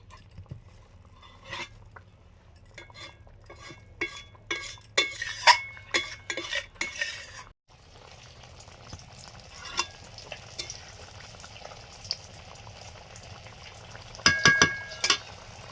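Taro greens being stirred in a kadai before cooking with shrimp, a series of close scraping, clattering strokes of a utensil against the pan over a faint sizzle, with a pause midway then renewed stirring and a final burst of clinks.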